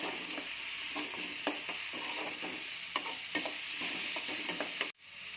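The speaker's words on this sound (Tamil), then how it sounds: "இன்னும் கொஞ்சம் வெங்காயம் வதங்கணும்." Sliced onions sautéing with ginger garlic paste in a pan, a steady close sizzle and frying hiss with occasional stirring scrapes and clinks, continuous before cutting off abruptly near the end, no talking.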